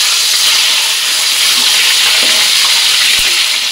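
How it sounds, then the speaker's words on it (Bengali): Duck eggs rubbed with salt and turmeric frying in hot oil, a loud close continuous sizzle and hiss with a faint clink near the end. "তেলের মধ্যে নুন হলুদ মাখিয়ে রাখা হাঁসের ডিমগুলো ভেজে নেব।"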